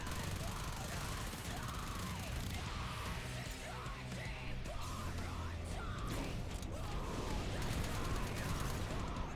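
Warframe combat with dense, rapid gunfire and mechanical clatter layered over loud game effects, continuous and busy from start to finish, with voices and yelling mixed in.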